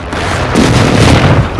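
A heavy airstrike explosion in Call of Duty Warzone 2.0, a loud deep boom that swells and rumbles for over a second before easing off.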